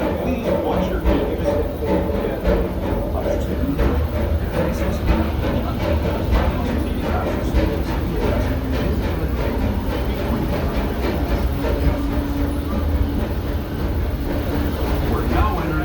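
Steady rumble and rhythmic clickety-clack of the Disneyland Railroad train pulled by the C.K. Holliday steam locomotive, heard from aboard a passenger car as a constant close, loud rolling noise.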